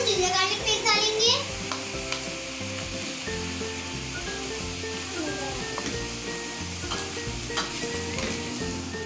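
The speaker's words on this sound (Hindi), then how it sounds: "अब हम 1 टेबलस्पून जिंजर गार्लिक पेस्ट डालेंगे" A tablespoon of ginger garlic paste sizzles in a pan for spaghetti, with a loud, close, crackling fry and stirring noises that run throughout.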